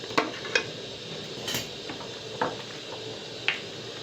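Chicken karahi stirred and fried in a pan, with a soft sizzle under sharp, scattered clinks of a spoon against the metal pan.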